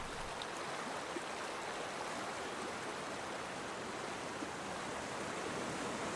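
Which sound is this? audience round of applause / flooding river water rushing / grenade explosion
flooding river water rushing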